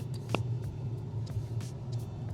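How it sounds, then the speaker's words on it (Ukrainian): A delivery vehicle arrives, heard as a steady, fairly close low engine rumble. A few short sharp clicks and knocks sound over it. "І все, машинка наша приїхала."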